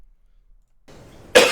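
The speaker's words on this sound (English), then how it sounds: "He was faking a cough for the whole day." A single sharp cough erupts abruptly near the end after quiet faint background noise, loud and close.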